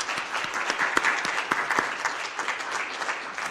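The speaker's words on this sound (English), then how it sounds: "let's give a round of applause for the candidates for this evening." Audience applause for the candidates closing a Fargo City Commission debate, a room of steady clapping with scattered sharper claps, moderately loud and sustained without talk throughout.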